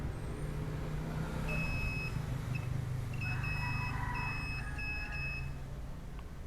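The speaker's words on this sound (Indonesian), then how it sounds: "Kita posisikan di buzzer" A multimeter on its continuity buzzer setting, testing a cable in an Epson L3110 printer, gives short high beeps, a brief one then several broken, intermittent ones, over a steady low background hum.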